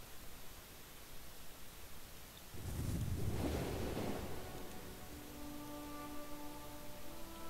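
Sea waves wash in a Crusader Kings 2 game as a ship sets sail, a broad surge of surf noise swelling midway over a steady hiss, then easing into a softer wash with faint tonal music.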